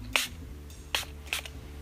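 Three short hissing bursts of Milani setting spray misted close by, evenly spaced over about two seconds, with a faint low hum between them.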